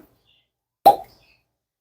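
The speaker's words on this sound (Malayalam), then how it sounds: "ഇനി ഇതിലേക്ക് നമുക്കൊരു ഫ്ലേവറിന് വേണ്ടിയിട്ട് കുറച്ച് വാനില എസൻസ് ഒഴിച്ചു കൊടുക്കാം" A small splash of vanilla essence drops into custard pudding mixture as a single soft, close plop in an otherwise quiet kitchen.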